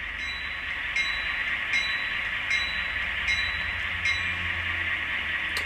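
A Rapido N scale EMD FL9 model locomotive bell rings in evenly spaced dings over a steady electric hum.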